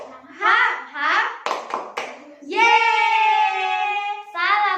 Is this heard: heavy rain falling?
no